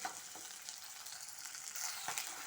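Fish frying in a pan with mustard oil and fermented bamboo shoot, a loud steady sizzle and crackle with no one speaking.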